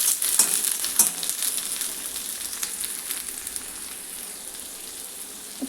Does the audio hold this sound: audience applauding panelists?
no